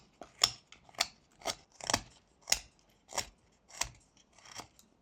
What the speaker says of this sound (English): by keeping the blade almost in the same direction as the wood, you're going to be able to take off very thin slices